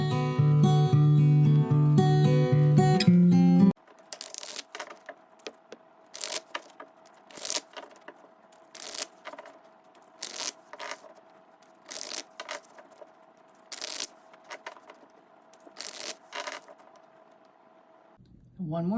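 A run of short, crisp papery riffles of tarot cards being shuffled repeats at a steady pace, close up, after a brief stretch of music at the start.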